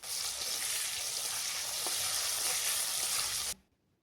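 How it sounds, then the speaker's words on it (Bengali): Potatoes fry in oil with salt and turmeric, giving a loud, even sizzle close by that stops abruptly about three and a half seconds in, leaving near silence. "এবার ওই তেলেই আলুগুলোকে একটু ভেজে নিচ্ছে"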